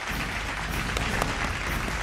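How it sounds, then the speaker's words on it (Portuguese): An audience on a Brazilian TV crime show bursts into dense, steady applause, a fairly faint wash of clapping that holds for a couple of seconds. "Bota aplauso aí, Jota Rodrigues, bota aplauso aí, aplauso, aplauso. Aplausos da assistência"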